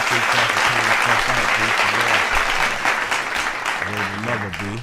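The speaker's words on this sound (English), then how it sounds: "Gotta give y'all a round of applause" Loud audience clapping at a live talk event runs steadily throughout, with a voice speaking over it the whole time.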